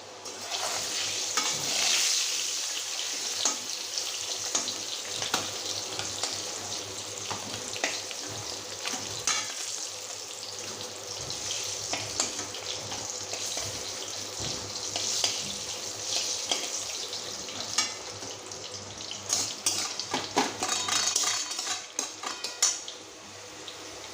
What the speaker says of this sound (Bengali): তো সেই সব সবজিগুলোই আজকে আর কি রান্না হচ্ছে